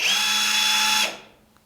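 A PULITUO 1/2 in brushless impact wrench whirs steadily at low speed, a moderate, even pitch, for about a second, then cuts off and spins down into quiet.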